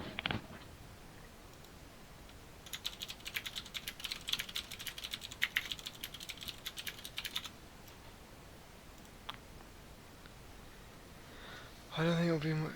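Rapid typing on a very loud computer keyboard during a livecoding session on server and client development, a dense burst of clicky keystrokes for several seconds, then quieter scattered taps and a short louder rustle at the end.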